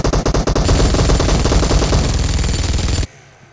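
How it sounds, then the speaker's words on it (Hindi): Sustained machine gun fire in the PUBG Mobile Payload mode, loud and close, a rapid unbroken burst of shots lasting about three seconds before cutting off abruptly into quiet. "let's try machine gun"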